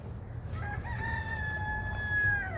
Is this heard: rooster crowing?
yes